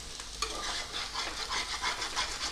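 Potato curry with chilli powder stirred in a pan over a high flame, a steady close sizzle of frying with repeated scraping strokes of a spoon running throughout, no talking.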